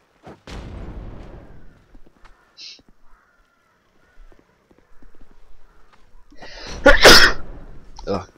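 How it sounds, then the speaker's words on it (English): A single sharp human sneeze bursts out loud and close while a Dark Souls 2 game plays quietly underneath, with scattered speech before it. "Oh, good sneeze again."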